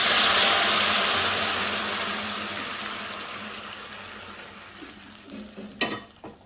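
A broad hiss as bottle gourd sauce is poured into hot tempering in a pan, loudest at first and slowly fading, with a sharp clatter near the end.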